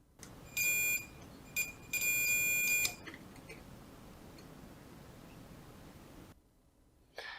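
A multimeter set to continuity test beeps loud and steady, in several bursts of varied length, as probes touch the battery contacts of an original 1989 Game Boy DMG. A quiet hum and faint clicks fill the gaps between beeps.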